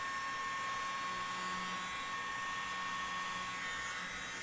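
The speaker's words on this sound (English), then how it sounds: "I'm going to use the hairdryer." A hair dryer blows steadily at close range over fluid art paint, a constant whooshing hum with a faint high whine, no voices.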